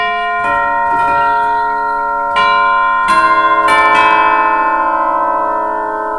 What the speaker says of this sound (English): these are cathedral chimes here.